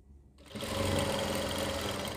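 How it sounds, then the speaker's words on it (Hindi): A sewing machine stitching a collar neck starts up after a brief quiet moment and then runs in a steady, close, rapid mechanical whirr with no talking. "देखिए मैं यहाँ पे थोड़ी सिलाई लगाता हूँ"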